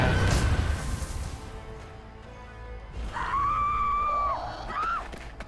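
A scream in the video game Marvel Midnight Suns, during the Morbius DLC vampire scene: a rising, wavering wail cuts in over rumbling crashes and a dense, noisy battle background.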